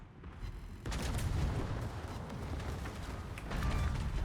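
Naval gunfire from a warship battle in the World of Warships video game, with torpedoes launched at an enemy ship: dense, rumbling volleys of heavy booms that swell after the first second and stay loud throughout.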